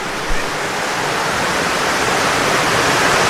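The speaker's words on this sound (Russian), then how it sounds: "из трубы еще дополнительно вода идет" Water pours steadily from a pipe into a natural spring pool on Camiguin, a loud, close, unbroken rushing hiss with no pauses.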